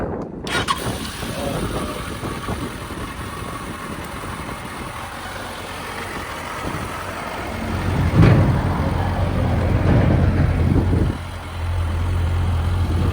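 A Suzuki GSX 650 motorcycle that has sat unused for a long time idles steadily after starting, a low continuous engine rumble that swells briefly louder midway before settling back, with no talking.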